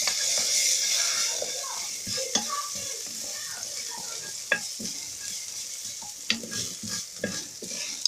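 Tshakula imbwa stirred in a pan with a little oil: a constant bright sizzle with scattered clicks and scrapes of the spoon against the pan, near and moderately loud, fading slightly over the eight seconds, no voices.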